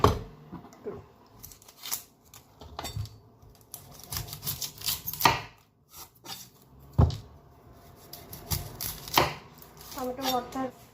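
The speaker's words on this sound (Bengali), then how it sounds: "পেঁয়াজটা কেটে নিব, ফার্স্ট পেঁয়াজটা কেটে নিই, মরিচ, রসুন এগুলো কেটে নিব।" Onions, chillies and garlic being chopped on a board for tomato bharta, with irregular sharp knife strikes spread across the whole stretch, close and fairly loud, with no talk.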